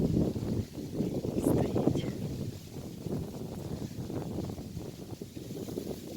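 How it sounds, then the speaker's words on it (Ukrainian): Steady, gusty wind in a forest buffets the microphone with low rumbling bursts, fairly quiet and continuous with no voices. "Тут трошки вітер може багато чути буде"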